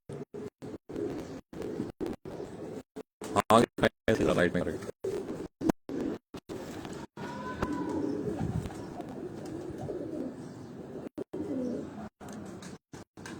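Pigeons of a long-flying racing breed coo softly in a loft while someone talks over them almost throughout, with brief gaps and clicks in between.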